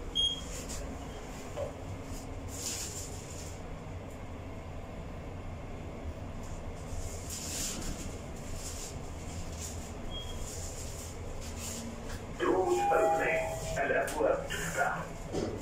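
Steady low rumble of a Dubai metro train in motion heading to Jumeirah Lakes Towers, with a constant hum and occasional higher hiss, a few faint voices and a brief chime near the end.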